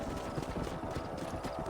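Horse hooves clip-clop in a quick, continuous patter over a dense rumbling background, fairly close and steady, in Red Dead Redemption.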